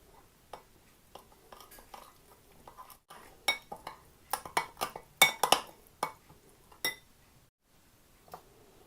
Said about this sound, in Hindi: अब दही, लहसुन अदरक का पेस्ट और ये सारे मसाले डाल के इसको अच्छी तरह मिक्स कर लेंगे